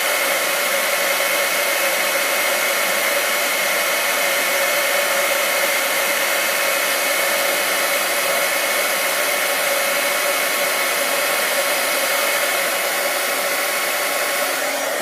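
A heat tool blows hot air over Stampin' Up embossing paste, a loud, steady, close whooshing roar with a constant motor hum that runs unbroken throughout, alone with no talking.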